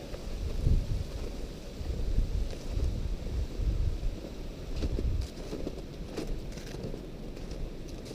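Blustery wind buffeting the microphone outdoors while snowshoeing, low rumbling gusts rising and falling in waves, loud and close, with no talk.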